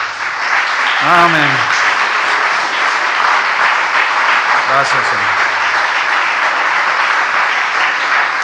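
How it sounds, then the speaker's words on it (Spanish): Congregation applause in a church service, a continuous wash of clapping from a large gathering, with someone speaking briefly twice over it. "Dale un aplauso al Señor"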